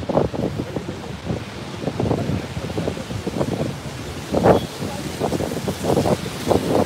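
Strong gusting wind from Tropical Storm Fay rushing past a microphone on a New York City street, a loud continuous buffeting roar that swells and fades in waves, with no voices.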